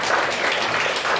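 An audience applauding at a discussion forum, a brief burst of dense, steady clapping from many hands filling the room at moderate loudness.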